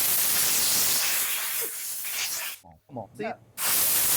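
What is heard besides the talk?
air blower blowing off cleaned part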